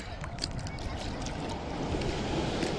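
Large ocean waves churn around a small boat at sea in a continuous loud rush of water and wind buffeting the microphone, with no clear breaks.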